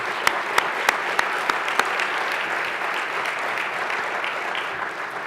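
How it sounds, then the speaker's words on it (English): An audience at the CUGH 2015 global health conference applauding, a few sharp, distinct claps at the start swelling into sustained, even clapping from a large crowd. "So I would like to give them a round of applause."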